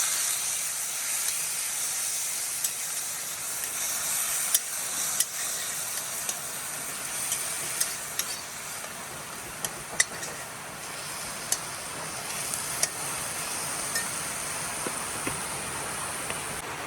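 Onion and dried chillies frying in hot oil, a steady loud sizzle and hiss that carries on throughout, with occasional small sharp ticks and pops.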